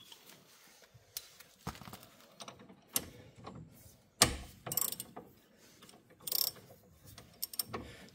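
A ratchet wrench tightens the bolt on a Citroen C3 steering rod end, giving scattered clicks and metallic clunks of varying loudness, some sharp and close, over a quiet background.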